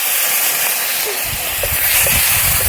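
Thinly sliced small tomatoes drop into hot oil with fried ginger for a mutton fat curry cooked outdoors in a field, giving a steady, loud sizzling hiss that runs throughout.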